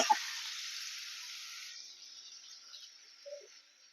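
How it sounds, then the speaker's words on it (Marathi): Cumin seeds and onion dropped into hot oil give a broad, steady sizzle that starts loud and slowly fades, with a brief clatter at the start and a small knock near the end. "इथं आपलं तेल गरम झालेलं आहे जिरं टाकायचंय आपल्याला त्यानंतर पहिला कांदा टाकून घ्यायचा आहे"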